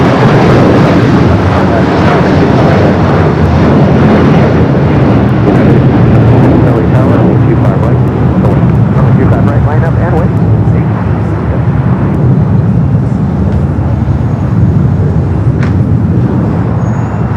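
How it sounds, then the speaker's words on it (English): A United Boeing 757-300 rolls down runway 25 right at Los Angeles International Airport for takeoff, a loud, sustained roar of jet engines that dominates throughout, swelling slightly and then easing. "Do have a United 757-300 heading to Dulles, flight 1635, now rolling down 25 right here on the south side."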